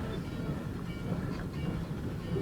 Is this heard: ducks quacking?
no